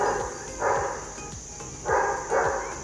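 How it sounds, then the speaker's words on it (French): A dog barks in the background: three or so muffled barks at moderate distance, spaced irregularly over a faint steady hum. "désolé, il y a les bruits d'un chien là."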